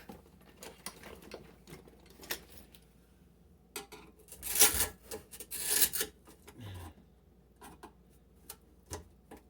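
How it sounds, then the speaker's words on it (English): A screwdriver works loose a part of an old kitchen sink fixture, making close scraping, rubbing and ticking metal sounds. A brief louder grinding burst comes midway, then more light taps and clicks. "Screwdriver in there and take that off."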